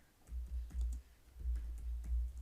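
Keys tapped on a computer keyboard while entering text into an Excel spreadsheet, a quick irregular patter of soft clicks in short bursts, close and fairly quiet with no voices.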